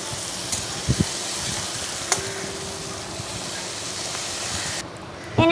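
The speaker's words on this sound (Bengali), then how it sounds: "এরকম একটু নেড়ে নেব।" Egg pasta with chilli powder is stirred in a pan, producing a soft, steady sizzle with a few light scraping clinks of a utensil, fairly quiet throughout.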